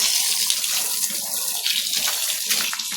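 Cool water sprays steadily onto a dog, a loud, close, continuous gushing hiss with uneven splashes as the stream hits the coat.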